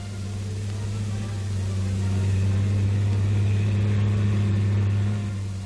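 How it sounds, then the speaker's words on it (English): A 1944 tank engine straining as the tank tries to climb granite blocks on a sloping beach wall, a loud steady low drone that swells and rises in the middle before easing, with no voices. "an attempt will be made by a tank to negotiate the granite blocks."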